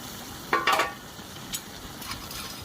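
A pan of bottle gourd and prawn curry is stirred, with a few scraping, clinking strokes of a spoon against the pan over a faint simmer.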